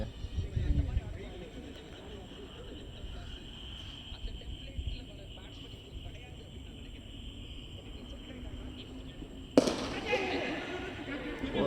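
A bowling ball rolls down a lane with a low rumble under a noisy indoor background, then strikes the pins in a sudden bright crash near the end, followed by clattering.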